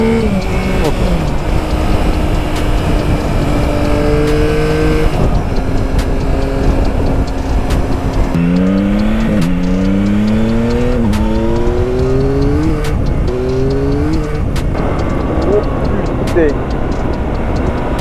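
Car accelerating hard from 0 to 100 in about four seconds, engine revving up through several gear changes in rising sweeps, loud and close under continuous in-car noise, with someone talking over it.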